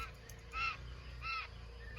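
A pet bird calls indoors in two short, faint, harsh squawks spaced about half a second apart over quiet room noise.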